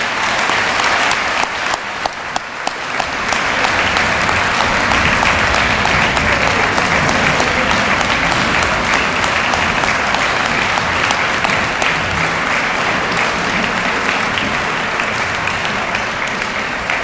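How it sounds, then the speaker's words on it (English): A banquet audience applauds the coaching staff at a high school fall sports banquet, a sustained, loud, even roar of many hands clapping across the whole stretch with no voices. "Please join me in a round of applause for our coaching staff."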